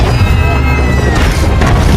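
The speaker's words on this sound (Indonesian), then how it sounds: "Sim kemudian menggunakan salah satu mercon untuk meledakkan helikopternya." A loud, heavy boom as a firecracker blows up a helicopter in a movie scene, a thick crashing blast filling the whole moment.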